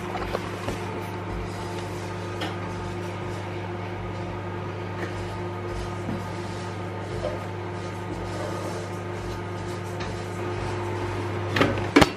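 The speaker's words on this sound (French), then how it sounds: "Je vais le moudre au thermomix." Thermomix kitchen machine running steadily at top speed 10 to grind ingredients for chebakia, a continuous loud motor drone with a whirring hum that holds for the whole stretch, with no talking.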